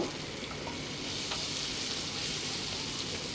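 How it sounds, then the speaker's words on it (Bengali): Onion and green chilli frying in hot oil for a chital fish curry, giving a steady, close, dense sizzle that holds evenly from start to finish with no voices. "এই পেঁয়াজটাকে আমি একটু ভেজে নেব।"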